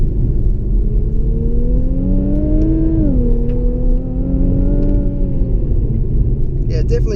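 A 2017 Infiniti Q50 Red Sport with a 3.0-litre twin-turbo engine pulls hard in third gear under full throttle, its rising engine tone climbing steadily, dipping briefly, then climbing again, loud and close from inside the cabin.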